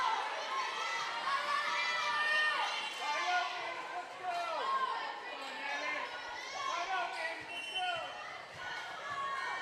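A gym crowd at an indoor volleyball match chatters and shouts throughout, with cheers rising and falling and scattered children's voices in a lively, reverberant hall.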